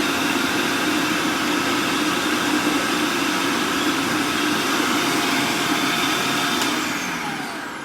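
A blender or food processor pulsing a mixture while dinner is cooked, a loud, steady whirring motor drone held for several seconds that tapers slightly at the end.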